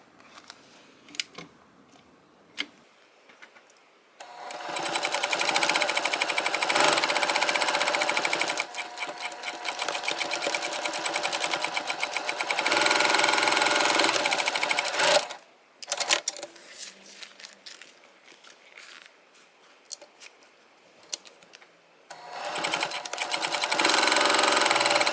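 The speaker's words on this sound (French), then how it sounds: "maintenant, je vais aller coudre vraiment à comme 1/8" A sewing machine stitches the seams of a transparent boxy bag, running in long steady bursts of rapid close whirring with short pauses and handling clicks between.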